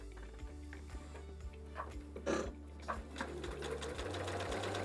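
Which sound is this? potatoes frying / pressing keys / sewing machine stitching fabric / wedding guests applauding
sewing machine stitching fabric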